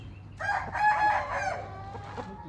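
A Thai fighting rooster crows once, close and clear, in a long drawn-out call that rises and then trails off over low background hum.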